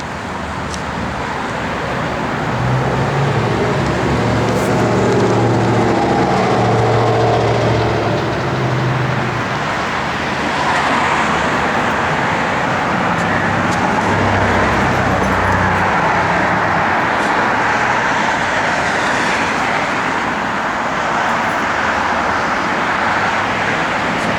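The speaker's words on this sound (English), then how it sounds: "this motor, you wrap it, I mean, it just sounds good" A 1967 Plymouth Satellite's engine runs loud and close, a deep throbbing rumble that swells as it is revved around the fifth and fifteenth seconds before easing back.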